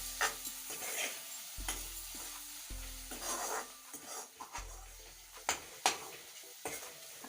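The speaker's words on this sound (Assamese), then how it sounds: "এতিয়া মই ভালকৈ ভাজিম অলপ।" Spices (chili powder, turmeric and salt) frying for sidol chutney, a close sizzle under repeated scraping strokes of a spoon against the pan, with rhythmic clanks and knocks throughout and no talk.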